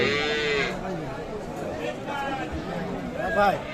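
Cows and calves, including Sahiwal dairy cows, bellow and low at the Aftabganj cattle market in Dinajpur, with a drawn-out moo up front and more calls scattered through loud crowd chatter and someone talking close by.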